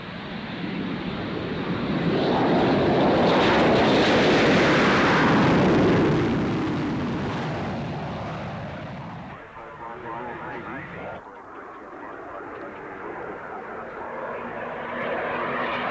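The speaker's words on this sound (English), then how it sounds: "These aircraft were powered by the Fiat-built Ghost Mark 48 engine." A jet aircraft with a Fiat-built Ghost Mark 48 engine in Swiss Air Force colours passes at a 1994 airshow in Wanaka, New Zealand, its roar swelling loudly, peaking, then fading to a distant rumble as a commentator talks over it.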